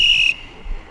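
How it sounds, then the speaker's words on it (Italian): A referee's whistle blown at an amateur football match in Italy right after a goal makes it 5-1, a short bright shrill tone ending abruptly, clear and fairly close, followed by quiet background. "Duplice fischio del signor Scuteri appena dopo il gol del 5-1 di Di Biasi per la Fabbrica del Duomo."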